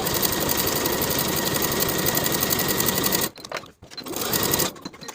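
Sewing machine stitching the long and pointed edges of a fabric tie piece for pull-on pants, running fast and steady up close, then stopping briefly and restarting in a short burst.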